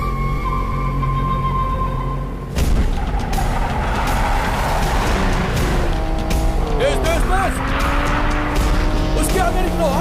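Cars roar at high speed through a movie car chase, engines revving and tires squealing in a dense, continuous rush of engine noise and skids, with voices shouting beneath the din.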